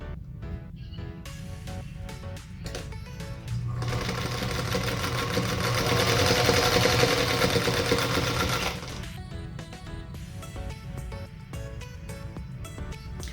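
Sewing machine stitching a quilt block along a marked line, a steady close mechanical whir that swells louder in a sustained run mid-way, with short intermittent bursts of stitching before and after.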